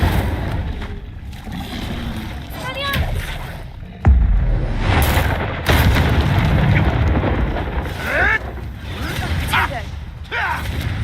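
A fire spell cast in Hogwarts Legacy bursts with a loud whooshing boom about four seconds in, then crackling flame and game effects churn beneath a talking player and character voices.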